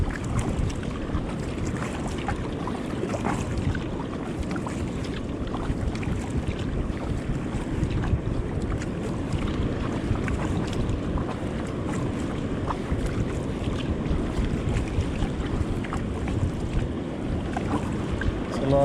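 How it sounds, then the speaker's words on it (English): Shore break waves rolling in at a kayak launch on the Gold Coast, a continuous churning wash of moving water with wind buffeting the microphone, steady and fairly loud throughout. "now we have the shore break"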